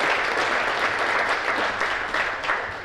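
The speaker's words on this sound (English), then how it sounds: "Let's give her a round of applause." An audience at a chamber of commerce awards gala applauds for a recognized honoree, dense sustained clapping filling the room without pause.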